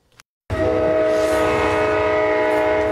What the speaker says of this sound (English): This is the only train carrying people right now in Oklahoma.